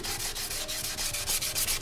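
Steady rhythmic sanding of a Benelli motorcycle fairing part, a rough abrasive rubbing in quick repeated strokes, close and fairly loud with no talking.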